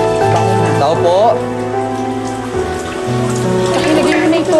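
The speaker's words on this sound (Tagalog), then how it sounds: "Ang lakas ng ulan, ah!" Heavy rain pours down steadily and loudly on a surface, a dense continuous wash of drops with voices faintly mixed underneath.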